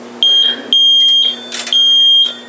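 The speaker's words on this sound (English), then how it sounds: "as you can see, the panel is now an alarm, and it's telling you it's ground floor main entrance, and obviously the panel is beeping away" A building fire alarm panel sounds repeated high, steady electronic beeps in regular on-off bursts during a simulated alarm, loud and close with no talk.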